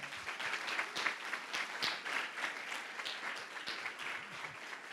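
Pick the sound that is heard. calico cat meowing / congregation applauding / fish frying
congregation applauding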